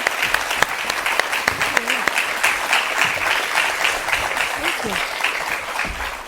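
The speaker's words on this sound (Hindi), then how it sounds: "जोरदार तालियों से स्वागत कर रहे हैं।" A studio audience applauds a guest's arrival at a televised interview with an actress, with loud, dense clapping throughout, some close sharp claps, and brief voices under the applause.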